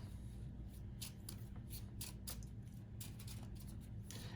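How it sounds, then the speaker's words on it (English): Game cards from a Marvel Champions deck being shuffled by hand, a series of quick, soft riffling bursts at close range, fairly quiet and unbroken by speech. "Shuffle this deck back up."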